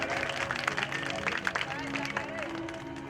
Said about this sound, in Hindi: एक बार तालियां बजा करके स्वागत करें